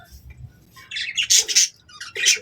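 Young chicks in a pen chirp and squawk in short, loud bursts, with a few quick calls spaced through the span and faint low background noise between them.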